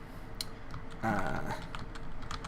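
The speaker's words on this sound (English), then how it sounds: "I heard you just typing" Computer keyboard typing, a brief run of light clicking keystrokes heard faintly beneath a voice talking in the room.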